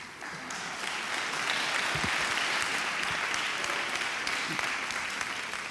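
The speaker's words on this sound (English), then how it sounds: "let's give a round of applause to your teachers" Steady, full applause from an awards ceremony crowd, many hands clapping continuously at a fairly loud level without letup.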